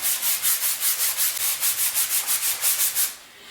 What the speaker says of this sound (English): Grab my sanding tool here and block